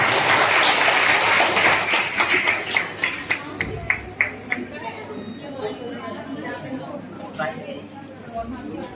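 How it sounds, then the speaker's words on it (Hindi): Audience applause fills the room at a college farewell party as a poet is welcomed onto the stage. The clapping is loud and dense at first, then thins into scattered claps and fades under crowd murmur. "और सभी से आग्रह करूंगा कि तालियों के साथ इसका स्वागत करें।"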